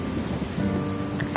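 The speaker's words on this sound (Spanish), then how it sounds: "Llueve." Steady rainfall patters across a surface in a brief, even wash of sound with no voices.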